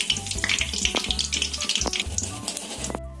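Banana flower vada made with toor dal crackle and bubble in hot oil, a busy close sizzle with scattered pops and some clinking, ending abruptly; no speech.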